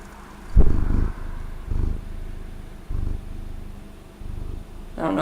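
A cat purrs up close in rhythmic, low rumbling pulses roughly once a second, loud and steady, with a brief voice near the end.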